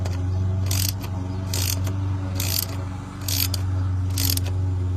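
A ratchet tightens an 8mm intake clamp on a 2021 Volkswagen GLI. Five evenly spaced bursts of rapid clicking come close up over a steady low mechanical hum.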